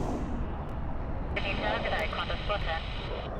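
A Garuda Indonesia airliner in retro livery roars at Sydney Airport, a loud continuous jet rumble that grows brighter partway through, with someone talking over it.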